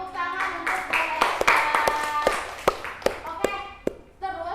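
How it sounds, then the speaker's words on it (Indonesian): A classroom of students claps in a short, uneven burst of sharp, close hand claps with a few scattered late claps and a pause toward the end, while a teacher's voice talks over it. "tepuk tangan untuk Mbak"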